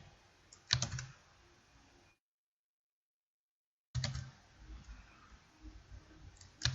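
Mouse clicks in CAD drawing software, faint sharp clicks at the start and again after a silent gap, with light desk noise between them.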